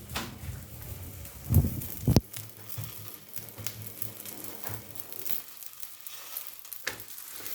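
Roti fries in a small pan, a faint steady sizzle with a couple of sharper knocks and scrapes early on, quiet and close.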